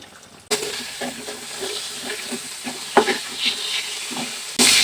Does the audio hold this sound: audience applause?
no